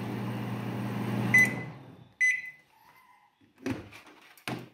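A microwave oven hums steadily while running after its magnetron was replaced, then stops with a beep and chime, followed by a few clunks of the door and handling.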